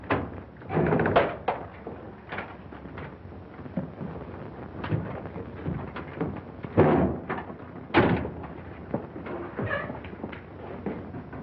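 In a 1942 drama, a door is banged on and slammed with several loud, uneven thumps and bangs, some spaced out and some in quick bursts, with rattling between them.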